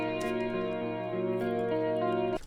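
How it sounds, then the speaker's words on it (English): Clean electric guitar notes ringing out through an effects processor with a wash of reverb and repeating echo, sustained tones overlapping steadily, close and moderately loud with no voices. "It has reverb and echo on it already"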